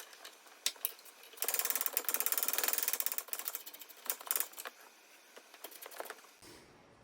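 Socket ratchet clicking rapidly as it backs out 14mm strut bolts on a Nissan Titan during a Bilstein 5100 shock swap, with steady close bursts of pawl clicks and short pauses, no talking.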